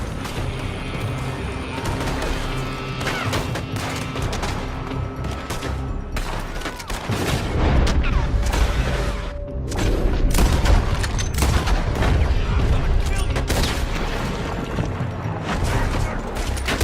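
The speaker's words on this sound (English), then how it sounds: "They're shooting from that building." Dense gunfire from a battle in Red Dead Redemption 2: a continuous fusillade of overlapping rifle and pistol shots with heavy booms, loud and sustained throughout with no pauses.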